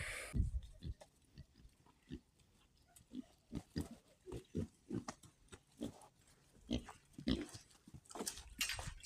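Black pigs graze on grass outdoors, giving off scattered short grunts and snuffles, some close and some softer, at an irregular pace.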